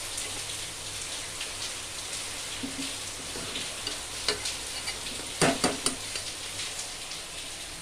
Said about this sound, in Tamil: இதை பாருங்கள் வெள்ளமும் கொதிச்சிருச்சு